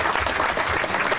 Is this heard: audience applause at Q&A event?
yes